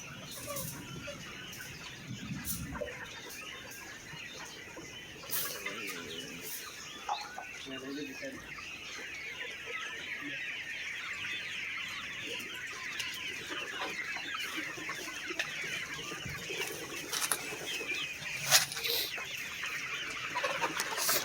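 Dense flock of poultry clucking and squawking steadily at a farm where about 2,200 chickens are being loaded into cages, with scattered louder calls and occasional wing flaps standing out over the continuous fowl chatter.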